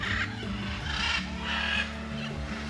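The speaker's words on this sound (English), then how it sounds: "We are officially in the noisiest enclosure with all of the macaws." Macaws squawking and screeching throughout, a dense chorus of harsh bird calls echoing in an enclosure over a low rumbling background, near Iguazu Falls, Brazil.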